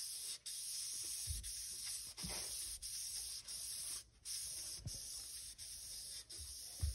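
Sandpaper rubs steadily against a small motor being polished, a close, continuous hissing scrape broken by brief pauses every second or so.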